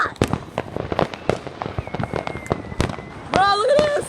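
Fireworks burst repeatedly at an outdoor display, sharp cracking bangs in quick irregular succession, with a whistling rocket rising near the end.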